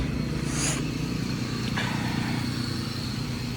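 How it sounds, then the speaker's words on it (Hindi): A Jeep Grand Cherokee engine idles steadily with a low continuous rumble, close and unchanging throughout, with a faint brief hiss and click over it. "मशीन चल रही है, शायद थोड़ी आवाज़ कम आ रही हो।"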